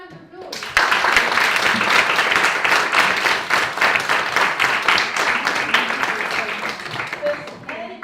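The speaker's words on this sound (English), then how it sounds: "And give yourselves a huge round of applause." Workshop audience bursts into applause after a pitching skills session, clapping starting abruptly near the beginning and staying loud and dense, a crisp rapid patter with some cheering voices, easing slightly toward the end.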